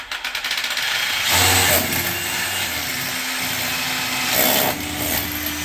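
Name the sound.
power tool driving a screw while installing a toilet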